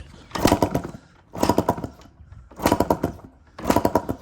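Tri-Z two-stroke engine with the carb off and reeds out, kicked over four times with the throttle wide open, giving loud rhythmic bursts of mechanical chuffing separated by short pauses.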